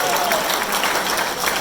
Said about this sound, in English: Please join me in a big round of applause for Joey Del Porter.